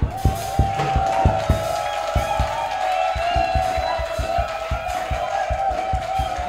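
A church congregation cheers and acclaims Jesus during a French-language sermon, with loud, rhythmic clapping and shouts carried over sustained organ or keyboard tones.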